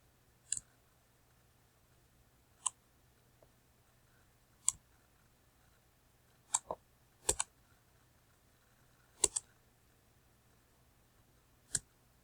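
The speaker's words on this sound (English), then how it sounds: "I'm typing that up." Sparse, crisp keyboard clicks tap out at irregular intervals, single keystrokes and quick pairs, close by in an otherwise quiet room.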